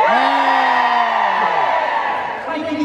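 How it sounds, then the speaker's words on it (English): A live television studio audience cheers and whoops on cue, a sustained crowd roar with a prominent rising and falling shout near the front that fades after a few seconds. "If you think it's Phil, cheer now."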